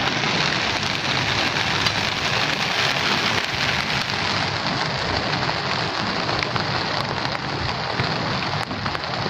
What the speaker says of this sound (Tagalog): Ayan, nakikita nyo na umuulan.